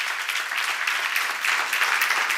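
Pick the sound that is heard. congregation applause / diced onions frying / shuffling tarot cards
congregation applause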